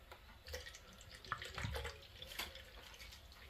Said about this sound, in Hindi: आनी तेतून आतां घालपाचें दूद